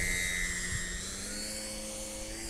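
A 1/7 scale Sopwith Camel RC model biplane in flight, its engine giving a steady, faint whine with a slight pitch drift across a brief pass, heard alone.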